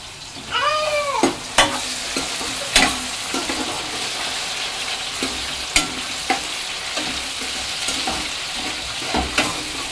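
Onions, chicken and tomato for biryani sizzle steadily in a pan, with frequent clinks and scrapes of stirring; a cat meows briefly near the start.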